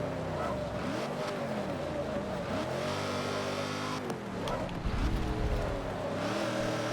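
Wide modern off-road trucks race on a narrow track in the video game Forza Motorsport 7, with engines revving and droning in overlapping, rising and falling tones throughout, then a louder pass near the end.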